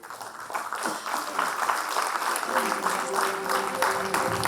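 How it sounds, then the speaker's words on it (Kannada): Applause from an audience at a scholarship event plaque unveiling, building up and holding steady at moderate loudness, with a thin sustained tone and some background voices beneath. "ತಮ್ಮ ಜೋರ ಚಪ್ಪಾಳೆಗಳು"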